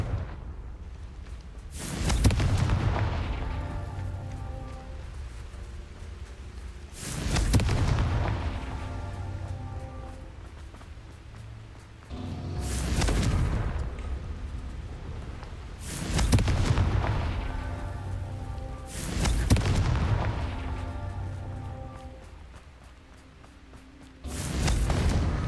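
Repeated spell explosions in the Hogwarts Legacy video game, five heavy booming blasts spaced about every five seconds, each with a sharp attack and a rumbling decay, loud and close with no talking.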